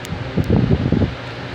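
An electric fan running at high speed gives a steady close rush of air with a fluttering low buffet in the middle of the clip.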